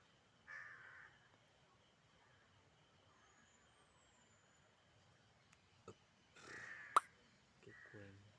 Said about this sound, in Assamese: খালী কাউৰী চৰাই বহুত। কাউৰী চৰাই বহুত আছে।